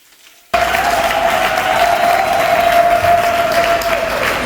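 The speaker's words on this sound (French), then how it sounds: "ça mérite beaucoup d'applaudissements, mesdames, messieurs" An audience at a pedagogical guide launch event in the DRC breaks into sudden, sustained applause, a full roomful of clapping over a steady tonal hum, loud and continuous.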